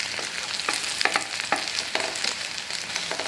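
Sandwich bread frying in a pan over a medium flame, a steady close sizzle with a few soft crackles and light scraping or turning sounds, and no one talking.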